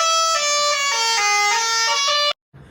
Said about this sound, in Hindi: एक है आपका हॉर्न